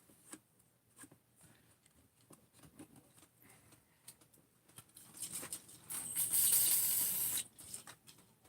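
Brake cleaner hisses from an aerosol can onto engine parts of a 350 small-block. Faint tapping leads into a louder, sustained spray burst lasting a couple of seconds near the end.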